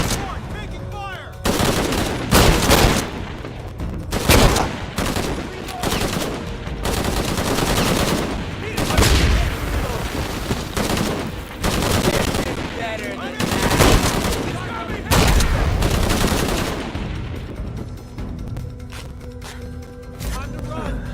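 Heavy gunfire in Shadow of the Tomb Raider, repeated loud bursts and volleys of shots over twenty seconds, with voices speaking between and under the shooting.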